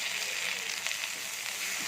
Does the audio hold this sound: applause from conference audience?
no